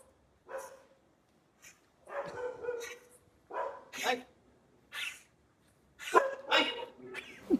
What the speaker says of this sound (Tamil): நாய் விரட்டுது